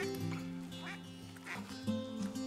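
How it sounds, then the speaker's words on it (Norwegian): Wild ducks quack repeatedly at dusk during an evening duck hunt in Norway, their calls fairly close and overlapping in a steady, nasal chatter with a faint low rumble beneath. "Vingesus og snadring avslør endene før de ses."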